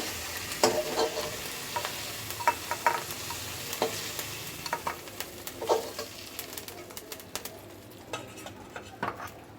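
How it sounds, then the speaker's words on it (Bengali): Chandana dried fish (shutki) fries steadily in a pan with a constant sizzle, broken by frequent sharp clinks and scrapes of a spatula against the metal, and no voices. "আমার শুটকিটা ভাজা হয়ে গেছে এখন আমি এটা"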